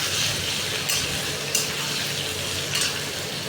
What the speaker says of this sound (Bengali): দিয়ে এটাকে তেলের সাথে ভালোভাবে একটু নাড়াচাড়া করে একটু ভাজা ভাজা করে নিলাম।